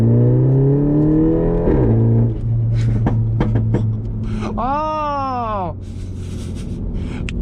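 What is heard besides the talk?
2018 Mini Cooper S revving with exhaust pops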